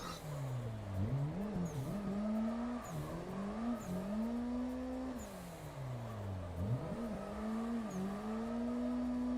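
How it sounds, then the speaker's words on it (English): A video game car drifts through repeated tire skids, its engine note rising and falling in sweeping squeals over steady motor drone, moderately loud and continuous with no talking. "God, I love doing skids"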